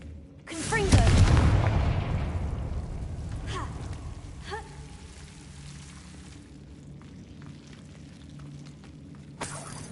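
A Confringo blasting spell goes off in the Hogwarts video game, a loud booming burst that decays over a few seconds, followed by fainter impact cracks and a low rumbling ambience.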